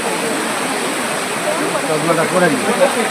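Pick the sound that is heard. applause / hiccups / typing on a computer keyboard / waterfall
waterfall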